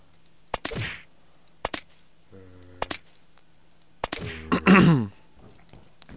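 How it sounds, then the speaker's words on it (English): Suppressed shots from a silenced gun in the Unturned survival game sound as a few sharp, dry snaps spaced apart, close and moderately loud. A short tonal buzz and a brief burst of other game noise sit between them. "Oh, the pleasure of having a silencer."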